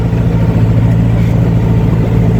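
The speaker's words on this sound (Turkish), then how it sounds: "Pompa ayarlarıyla oynanmış deli bir motor" Loud, steady diesel engine of a 5455 tractor with modified fuel pump settings, a deep continuous rumble with a low throbbing note, close by and running alone without talk.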